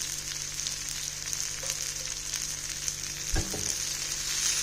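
Onions frying with dried anchovies (nethili karuvadu) in oil in a pan give a steady close sizzle with a brief clatter of a spatula, no talking.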